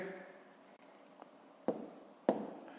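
Handwriting numbers on paper during a math lesson, quiet scratching with a few distinct pen strokes that grow slightly louder toward the end.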